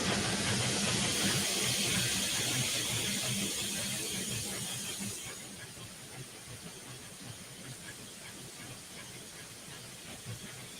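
An oil-burning steam locomotive working up the Wasatch grade, heard from the cab as a dense, steady hiss and roar with squealing tones; loud at first, then easing to a lower, even drone.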